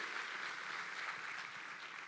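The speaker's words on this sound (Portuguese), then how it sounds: "Você pode celebrar a palavra de Deus e honrar ela com a sua melhor salva de palmas." Church congregation applauding during a worship service, a broad, steady wash of many hands clapping, distant and fairly soft throughout.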